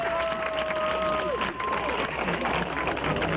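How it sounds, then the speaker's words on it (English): Crowd applause and cheering at an evening event in the Bahamas, dense continuous clapping filling the clip, with a sustained musical tone fading in the background. "give yourselves a round of applause"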